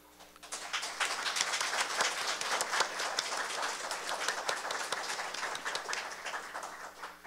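A steady, dense patter of audience clapping fills a Korean panel discussion on school democratic citizenship education, holding at an even level for several seconds without talk.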